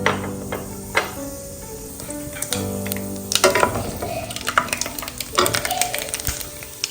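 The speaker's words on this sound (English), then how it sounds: "So the oil is already hot because the pan was too hot. So we are going to be adding our dry spices in here." Dry spices hitting oil in an overheated pan for a simple Indian leftover rice dish, giving a steady close sizzle with crackles and a few scrapes and clinks of stirring, with no talk over it.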